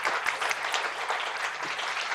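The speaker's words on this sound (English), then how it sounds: "Can you please help me give them a nice warm round of applause?" An audience at a policy talk applauding Ambassador Bonnie Jenkins and Major Jessica Taylor, dense even clapping from many hands, moderately loud and sustained throughout.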